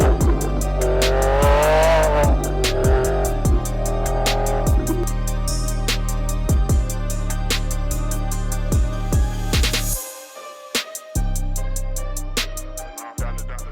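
Lamborghini Revuelto with a naturally aspirated V12 hybrid drivetrain being driven hard, the engine loud and close as it revs up in repeated rising sweeps between gear changes, then settles to a smoother steady drone.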